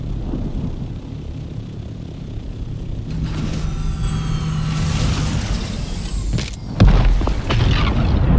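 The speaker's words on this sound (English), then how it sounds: "There goes the spice boom. There goes the spice blow up right there." A spice blow erupting in the Dune Awakening desert during a storm, a low rumbling roar building over steady windy noise, with a sharp louder boom near the end.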